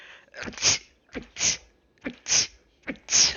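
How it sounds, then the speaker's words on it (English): Four sneezes in a row, each a sharp inhaled gasp followed by a loud, hissing burst, evenly spaced and close up. "you're about to experience my sneezes firsthand"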